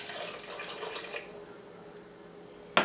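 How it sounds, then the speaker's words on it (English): Water poured into a stew pot for a spicy San Francisco cioppino fish stew, a soft continuous splashing pour that fades out, ending with a brief sharp clink near the close. "Then I'm going to add in 1 cup of water."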